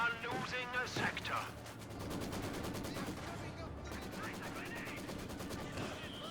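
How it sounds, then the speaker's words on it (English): Maxim machine gun fire in the World War II strategy game Company of Heroes 2 rattles in continuous bursts amid other battlefield gunfire, running under steady commentary from a caster. "Maxim suppressing these grenadiers."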